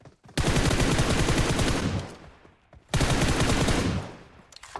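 SKS rifle fire in PUBG Mobile, two loud sustained bursts of rapid shots with a short gap between them, close and dominant, with no talking.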